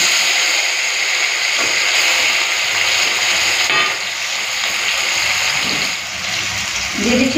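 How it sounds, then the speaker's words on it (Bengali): Pieces of elephant apple fry in hot oil with mustard-seed tempering, giving a loud, steady, close sizzling hiss that dips slightly now and then as they are moved. "চালতাগুলো দিয়ে দেবো।"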